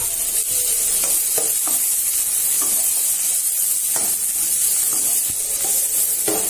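Green chilies and onion fry in hot oil in a pan, a steady, close, loud sizzle with occasional stirring scrapes, no talking.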